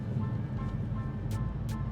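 A VW Golf MK8 GTI pulls hard in second gear, its steady low engine drone filling the cabin, broken by two brief high whooshes late in the run.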